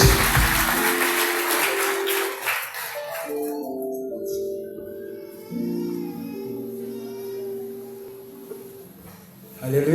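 A church crowd at an inter-church worship concert in Kibirizi Parish claps loudly for about three seconds. The applause then fades under sustained singing and musical tones.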